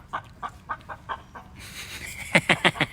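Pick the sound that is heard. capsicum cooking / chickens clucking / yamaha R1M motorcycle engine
chickens clucking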